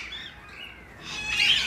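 Fruit-eating birds circle overhead in a wildlife park aviary in Australia, giving soft squawks and chirps that swell louder near the end.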